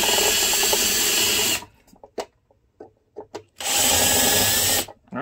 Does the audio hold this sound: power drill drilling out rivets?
yes